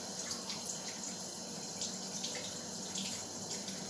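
Water from a sink tap runs in a steady broad hiss while dyed fabric is rinsed under it, with faint splashing shifts as the cloth moves through the stream.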